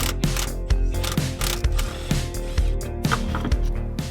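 Ratchet working loose the bottom bolt of a rear shock absorber on a cheap convertible car, rapid metallic clicking in repeated bursts, loud and close.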